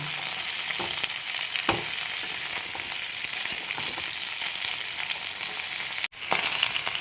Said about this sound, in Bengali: গাজর, আরও কিছু কুমড়ো রয়ে গেছে। এবার এগুলো ভেজে নেব